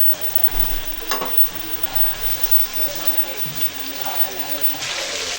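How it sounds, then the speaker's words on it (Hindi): Fried chicken going into a cup of hot oil for a wedding-style korma, raising a broad, steady sizzle with a few sharp crackles and stirring noises, close and fairly loud. "और इसमें ऐड कर देंगे अपना फ्राई किया हुआ चिकन।"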